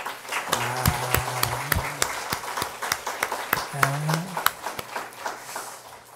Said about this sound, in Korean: 자, 우리 한번 힘차게 박수 한번 해주세요